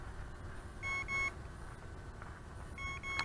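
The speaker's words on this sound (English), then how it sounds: "continuous double beeps on the remote" Quiet, high-pitched double beeps come from the remote controller of a ZLRC SG108 GPS drone in flight. Two paired chirps sound about two seconds apart over a soft outdoor background.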